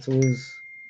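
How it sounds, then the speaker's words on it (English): A phone notification ding rings out once as a short bright chime with a thin tone lingering afterward, just after a brief spoken sound. "that's my phone"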